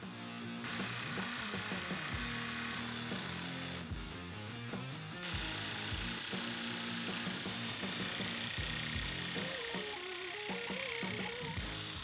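A power saw buzzes continuously as it cuts through a template, loud and close, its pitch wavering slightly as the blade works through the material.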